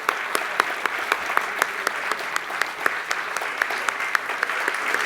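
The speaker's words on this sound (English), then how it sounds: "a hearty round of applause once again to all our contestants" Audience applause rings out for the contestants at a history quiz bowl, a steady, fairly dense round of clapping with individual sharp claps standing out, lasting throughout without any talk over it.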